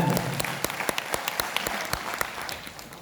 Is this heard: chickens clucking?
no